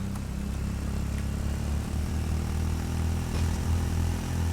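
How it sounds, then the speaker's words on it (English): A small kart engine in the video game Arma 3 drones steadily, a continuous low rumble that stays loud and fairly even from start to finish, with no talking. "Hopefully my voice is loud enough over this engine."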